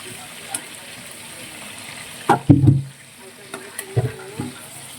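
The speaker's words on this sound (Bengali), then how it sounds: "হালকা ভাজবো, জাস্ট শ্যালো ফ্রাই করতে বলে হালকা" Shallow frying in a pan while cooking chicken biryani, a low steady sizzle under a few sharp utensil clanks and scrapes, close and moderate, with a louder knocking cluster midway.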